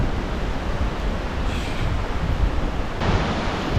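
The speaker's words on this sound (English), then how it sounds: "This is Turner Falls in Oklahoma. Very beautiful little river or creek," A small river or creek at Turner Falls, Oklahoma runs steadily, a broad constant rush of flowing water with no voices.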